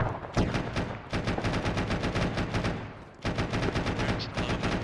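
Rapid bursts of automatic gunfire in the Arma video game crackle continuously, dense and loud, with a brief lull midway before the shooting resumes.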